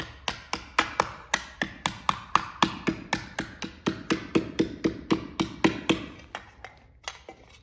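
Copper pieces are hammered for a smooth hammered finish, a steady run of about two dozen sharp metallic strikes at an even brisk rhythm, close and clear, slowing at the end.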